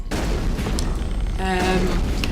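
Explosions and gunfire from the Mass Effect video game, a continuous dense roar of booming blasts and rapid shots with a brief tonal ringing midway, no voices.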